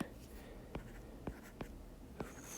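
Chalk or marker writing on a board during a physics lesson on projectile motion, four separate sharp taps and strokes spaced apart, faint against quiet room tone.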